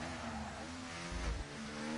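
A race car engine in a racing video game at a Las Vegas circuit holds a sustained, strained high-rev drone during a fast lap, with a brief low rumble about midway, loud and with no voices.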